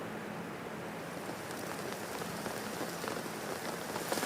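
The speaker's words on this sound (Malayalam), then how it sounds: "ജില്ലയിൽ ഇന്ന് ഇടവിട്ട രീതിയിൽ തന്നെ ശക്തമായ മഴ ചിലയിടങ്ങളിൽ പെയ്യുന്നുണ്ട്." Heavy rain pours down in Kasaragod district, Kerala, as a dense, even hiss of drops on surfaces that holds steady throughout and swells slightly toward the end, with no voices.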